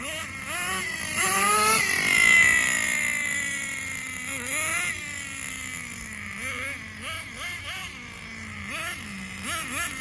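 A Thunder Tiger Tomahawk XL RC boat's nitro engine runs on old fuel, with a high, buzzing whine that revs up and down unevenly and surges in bursts, close and continuous for about ten seconds.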